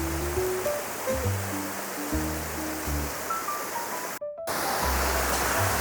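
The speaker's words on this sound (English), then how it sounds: "drawing the waterfalls and hearing the water behind me and in front of me" Steady broadband rush of waterfalls flowing in the Dandenong Ranges, continuous and fairly close, with faint musical tones layered over it and a brief dropout near the end.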